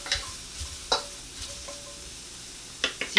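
Firm shiitake mushrooms cook in a pan, giving a soft sizzle broken by several sharp scrapes and clacks of stirring, close by, with no talking.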